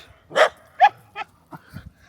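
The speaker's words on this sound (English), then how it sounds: "And a very friendly dog." A friendly neighbour's dog on a rural property barks about five times in quick, uneven succession, close by and fairly loud, with the barks getting softer.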